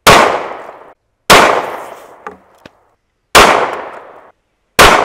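Four sharp revolver shots from a Smith & Wesson Bodyguard firing Winchester 130-grain defensive rounds at a steel target, loud and close, each with a short decaying tail and a faint metallic ping after the second.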